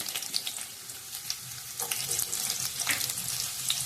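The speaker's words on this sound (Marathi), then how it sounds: "आता उभा चिरलेला बारीक कांदा आधी आपण भाजूया" Thinly sliced onion frying in hot oil for a spicy Ghati-style dry mutton, a steady close crackling sizzle with brief spits and stirring scrapes, no voices.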